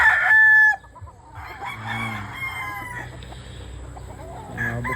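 A rooster crows loudly nearby at a game farm in San Enrique, followed by a mix of clucking and other crowing from a group of chickens.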